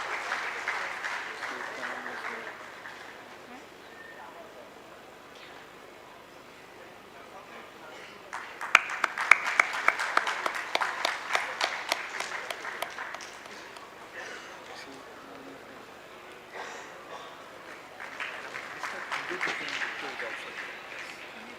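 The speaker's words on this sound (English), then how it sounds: "I request everybody to applaud for our esteemed alumni." An audience at a Foundation Day and jubilee ceremony applauds its alumni, a burst of many hands clapping that swells midway, then fades back under a murmuring room with voices.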